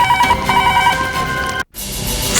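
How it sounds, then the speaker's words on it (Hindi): A telephone rings after a call is placed, a loud, steady electronic ringing tone that continues, breaks off briefly for a moment of silence, then resumes, with no voices. "फोन करो चंदावत को।"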